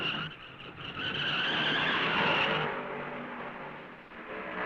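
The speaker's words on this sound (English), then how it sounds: "The national champion brings 2 tons of automobile to a stop 2 yards from the guardrail." Dave Pearson's NASCAR race car at the 1970 Darlington Southern 500 skids out of control, tires squealing and scrubbing in a harsh, rising-and-falling screech for several seconds, fairly faint and slightly distant, heard alone without talk.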